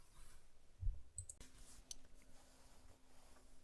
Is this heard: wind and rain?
no